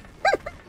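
A single short dog bark in the action video game Broforce, close and clear, with a softer trailing yelp right after.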